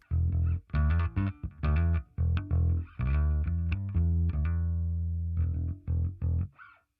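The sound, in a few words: Cornerstone bass P pickup clean tone through pedal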